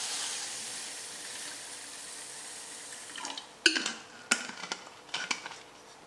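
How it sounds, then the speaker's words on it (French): Water runs steadily into a container of homemade-mustard seeds, a continuous airy pour, then gives way to clattering dish and utensil knocks and splashes, close by and without talk. "Donc on va commencer à mettre de l'eau."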